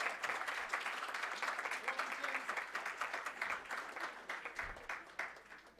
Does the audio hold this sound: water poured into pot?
no